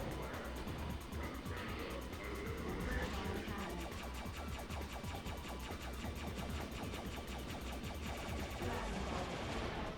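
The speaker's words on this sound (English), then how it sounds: "look how fast they fucking fire the photon cannons" Photon cannons fire rapidly in the WipeOut Fusion racing video game, a dense, continuous, loud barrage of blasts layered over racing engine noise.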